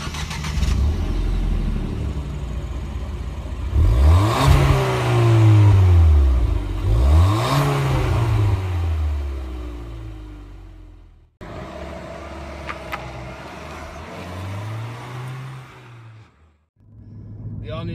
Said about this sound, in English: we are now gonna go on a test drive.